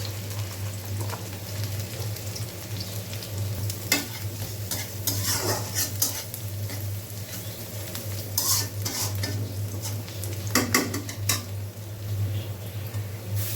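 Onion and chili sizzle in hot oil in a wok, a steady close frying hiss punctuated by repeated scrapes and clinks of a spatula stirring against the pan.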